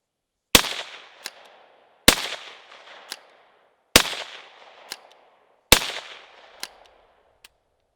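Four loud, sharp gunshots from a CZ 515 lever release rifle come about two seconds apart. Each leaves a brief rolling echo and a distant ring from the target, with no voices in between.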